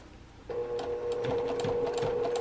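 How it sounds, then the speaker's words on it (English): A sewing machine stitches through thick layers of fabric for a travel bag, running at a steady even hum with a rhythmic needle clatter from start to finish, near and alone. "Take it slow because it's a lot of fabric, but your machine can do it."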